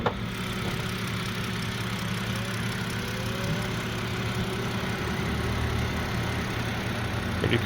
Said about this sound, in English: Ticking like a sewing machine. That's the first gen there, straight 6.